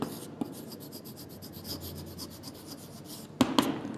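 Writing on a board during a Class 3 maths lesson on smart charts: a soft, steady, scratchy rubbing stroke lasts a few seconds and ends in a couple of sharper taps, close, with no talking.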